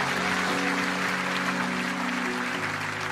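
A church congregation applauds together in a steady, dense patter of clapping that holds throughout, with a sustained musical tone lingering underneath.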